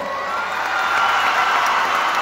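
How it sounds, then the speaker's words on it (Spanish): A large crowd applauds and cheers for Carlos Rivera at the 2022 opening of the Huamantla fair in Tlaxcala. The clapping forms a dense, continuous wash that swells slightly midway. "Vamos a darle un fuerte aplauso a nuestro amigo Carlos Rivera"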